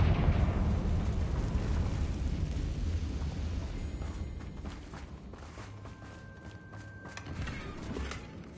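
A Confringo blasting spell explodes in Hogwarts Legacy with a loud, dense, fiery rumble at the start that slowly fades, leaving scattered crackles and small thuds.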